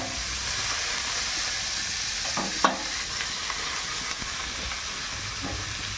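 Onion and garlic sizzle in hot oil with dried chillies and cumin in a darkened wok, a steady bright hiss close by broken only by a couple of faint clinks from stirring.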